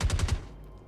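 Gunfire in Star Citizen: a quick burst of four sharp, loud automatic shots, evenly spaced, followed by a fading echo and near silence.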